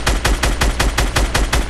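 Loud, rapid automatic gunfire from a video game, with about ten evenly spaced sharp shots in quick rhythmic succession, close and alone with no talk.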